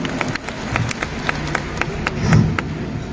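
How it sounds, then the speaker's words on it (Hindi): Audience applause at a safety week event, a crowd clapping in a loose, scattered patter that swells briefly near the end, with a faint voice underneath. "आप तालियों में बहुत कंजूसी कर रहे हैं।"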